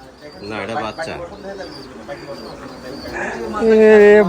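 Pigeons coo and call at a pigeon farm, soft throaty cooing running under indistinct voices before a louder, sustained bird call rises at the end.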